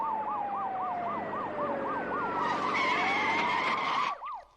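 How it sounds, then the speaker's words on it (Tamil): A police jeep siren wails, rising and falling in rapid repeated sweeps, loud and close, with a second higher tone joining near the end before it cuts out. "நம்ம வண்டிக்கு முன்னால போற போலீஸ் ஜீப்ல இருந்து வர்ற சத்தம் தான் சார்"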